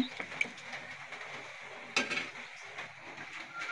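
Rice stirred and fried in a pot for chicken biryani made with country chicken gives faint, quiet scraping and a soft sizzle, with a couple of light metallic clinks from the utensil against the pot.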